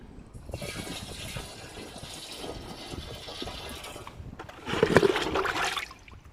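Liquid is poured into a container, roughly ten litres for a village farming mix, as a splashing, gurgling stream that swells louder for a stretch near the end.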